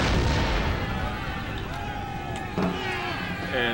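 Artillery fire in the Napoleon Total War video game, a dense roar of cannon booms and battle noise rumbling loud and continuous, with a sharper blast near the end.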